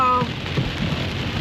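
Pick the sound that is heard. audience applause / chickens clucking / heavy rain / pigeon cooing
heavy rain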